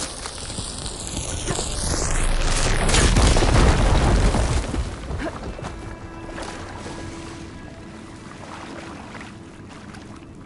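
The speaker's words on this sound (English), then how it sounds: "Should be able to blow up that fire gleam." A fire gleam blown up in Horizon Forbidden West gives a deep, rumbling blast that swells over a few seconds and then fades into a low, steady ambient hum, with no voices.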